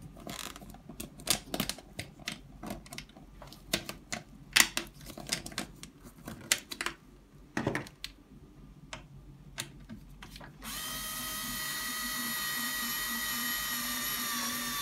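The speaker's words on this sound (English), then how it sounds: "After all three are in somewhat, you can tighten them, screw them all the way back in." Screws are driven back in with a power driver to reattach the shopping basket on a Stokke Trailz stroller, giving repeated short bursts of whirring and clicking close up, followed by a steadier high-pitched whine near the end.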